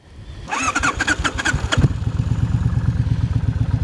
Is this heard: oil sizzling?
no